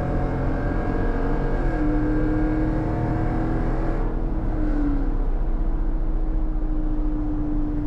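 A Jeep Grand Cherokee converted to SRT running with a steady, loud engine drone and a rising rev partway through. It continues without pause, heard up close with no talking over it.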